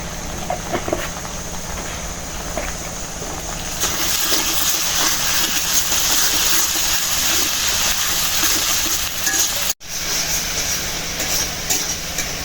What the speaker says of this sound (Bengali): আদা রসুনটা ভাজতে দিলাম